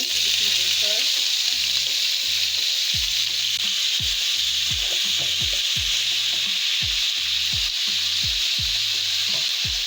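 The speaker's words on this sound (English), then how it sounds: "Guys, we're gonna put in our seasoning for the vegetable stew." A vegetable stew with crushed pimento seasoning sizzles loudly in a pot, with a constant frying hiss and rhythmic scraping stirs of a spoon against the pot, no talking.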